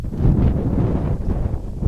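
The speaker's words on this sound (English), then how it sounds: "We are in some very windy conditions in Forest City." Heavy, steady wind buffeting the microphone at a baseball game, a low rumbling roar that swells and dips for the whole stretch.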